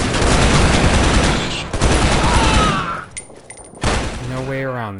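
Dense rapid gunfire from the Shadow Ops: Red Mercury shooter game, a loud sustained burst of shots that cuts off abruptly, followed by a few scattered thuds and a brief tonal effect.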